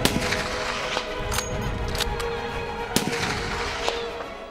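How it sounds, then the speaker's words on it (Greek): Gunfire from a sniper in a military exercise with Greek navy frogmen, heard as several sharp cracks spaced irregularly over a dense, noisy outdoor background, moderately loud with no talk. "ο σκοπευτής καθοδηγεί τον παρατηρητή σε επιλεγμένο στόχο και ανοίγει πυρ"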